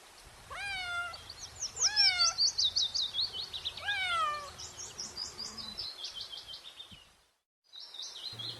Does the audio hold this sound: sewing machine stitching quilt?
no